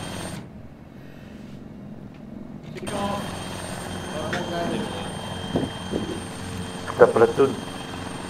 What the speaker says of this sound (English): Get in the chopper.